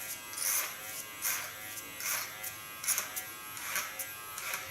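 An electric hair clipper buzzing in short repeated bursts, close by and fairly quiet, as it is drawn up the back of a client's head during a haircut.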